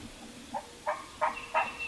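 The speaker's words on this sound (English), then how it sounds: "Gobble, gobble, gobble, all the way around us." Wild turkeys gobble during a spring turkey hunt: three or four short, rattling gobbles come in quick succession, somewhat distant, over a quiet outdoor background.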